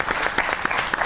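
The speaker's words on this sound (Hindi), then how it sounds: "बहुत सी तालियां होनी चाहिए राणा साहब के लिए।" Studio audience applause on a comedy talk show, a short burst of rapid, dense clapping, loud and close, with no voices over it.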